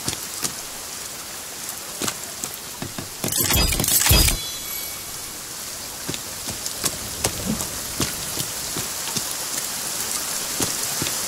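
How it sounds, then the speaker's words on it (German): Steady rain falls in the survival video game The Forest, a dense, even hiss of drops with scattered louder patters. A brief, louder burst of noise swells over it partway through. "Jetzt, wo es so regnet, hört man die wieder kaum."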